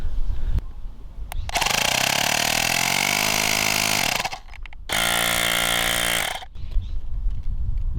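A portable cordless tire inflator, an Auxito A301 or airmoto, runs in two loud steady bursts of buzzing motor and pump noise, with a brief pause between them and a quieter background before and after.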